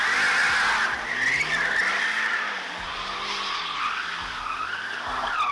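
A new car skids with its tires squealing loudly and continuously for several seconds while the engine revs underneath, close by and with no talk.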